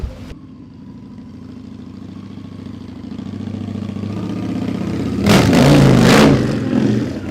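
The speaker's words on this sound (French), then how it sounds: "c'est pas son fils qui passe là avec cette superbe moto?" A motorcycle engine rumbles steadily nearby, building as the bike approaches, then swells into a loud, brief pass-by roar before fading slightly, with no talking.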